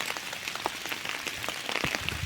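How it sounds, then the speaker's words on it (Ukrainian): Rain pattering on an umbrella outdoors while mushrooms are being picked: a close, dense, steady crackle of drops with no voices. "Бо паде дощ, а я під зонтиком."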